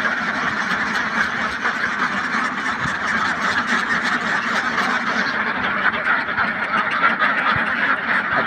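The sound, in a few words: ducks quacking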